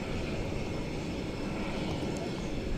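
American Airlines Airbus A321 at DFW Airport at night, a steady distant broadband jet roar that holds evenly throughout without rising or fading.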